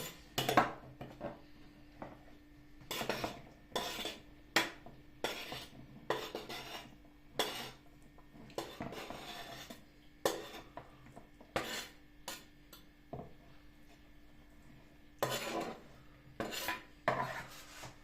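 Julienned chicken hearts and salad ingredients tip into a dish, with sharp intermittent clatters and scrapes of utensils against the bowl, fairly quiet with pauses between bursts.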